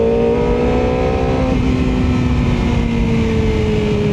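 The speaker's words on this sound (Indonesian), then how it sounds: "Kalau gua narik gas kencang dikit," A Kawasaki ZX25R motorcycle engine rises in pitch as the throttle is opened, a steady, loud droning whine that climbs smoothly and holds with no talk over it.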